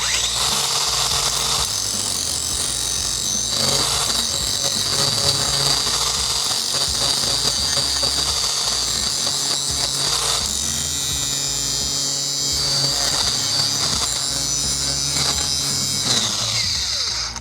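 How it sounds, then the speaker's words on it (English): A DeWalt grinder grinds wood flat, a loud, steady high-pitched whine and rasp running nonstop, close up, with slight shifts in load and no talking. "So let's see if we'll just grind these flat."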